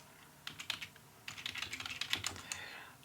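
Quick, light clatter of C++ code being typed on a computer keyboard, a short burst of keystrokes, a pause, then a longer steady run of taps, close and fairly soft.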